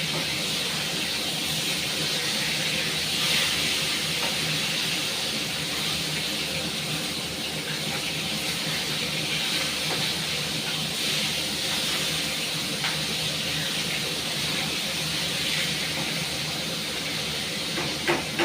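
Pieces of fish frying in hot oil in a pan, giving a loud, steady, close sizzling hiss that runs unbroken throughout.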